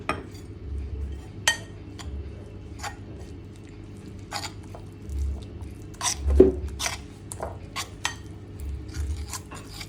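A spoon stirs cornflour, maida, salt and water batter for Gobi Manchurian in a bowl, giving intermittent quiet clinks and scrapes against the bowl with no talking.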